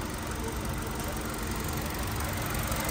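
A 2020 Hyundai Accent with a 1.4 engine idles smoothly, giving an even, continuous mechanical hum and light rattle close by, with no talking over it.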